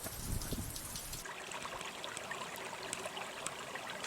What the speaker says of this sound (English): everything is wet as the meltwater makes its way down to the ocean